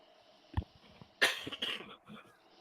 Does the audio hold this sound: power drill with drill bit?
no